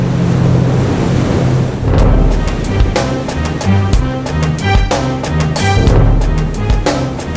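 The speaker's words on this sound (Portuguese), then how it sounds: "Em alto mar, navios e plataformas conectados a poços de petróleo são castigados incessantemente por ondas, ventos e correnteza." Heavy ocean waves and gusting wind batter ships and oil platforms on the open sea, with a steady loud roar broken by repeated crashing surges.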